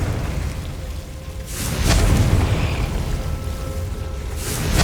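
Confringo blasting spell explosion in the Hogwarts Legacy video game: a loud broadband blast swells in near the two-second mark into a sustained rumbling roar over a constant low background, with another burst building at the very end.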